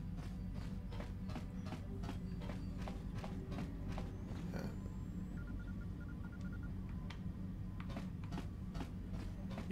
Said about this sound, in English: You hear the echo of footsteps coming from the direction of the cargo hold.